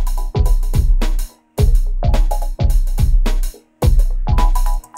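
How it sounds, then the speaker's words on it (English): Electronic beat built from a drum machine pattern and a sampled loop in Reason music software, playing as a verse section: punchy kicks and snares in a steady repeating rhythm with short gaps between bars, loud and with no voice over it. "So we've got a different pattern and a different loop."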